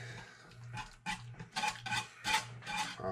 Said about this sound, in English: I'm just gonna start stirring a little bit because the sauce is getting excited already